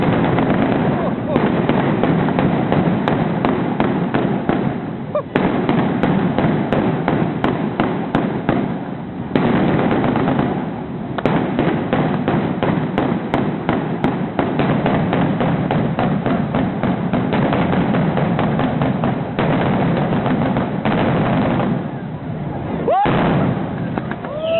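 Parachute fireworks bursting overhead in a dense barrage of loud bangs, pops and crackles, one explosion after another with brief gaps, while people talk and exclaim excitedly between the blasts.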